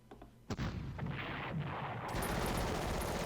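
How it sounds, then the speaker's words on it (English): An anti-tank cannon fires in the Panzer Corps World War II strategy game: a sharp blast, then a sustained roaring burst of gunfire and explosions, loud with no talk. "I'm trying to use my anti-tank cannon here"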